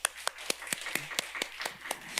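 Applause in a church Sunday worship service, a small congregation giving sparse, distinct hand claps at a fairly quick, uneven rhythm, rather faint and thin.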